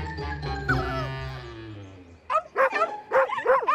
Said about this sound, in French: Vous entendez? Ce sont les autres petits chiens.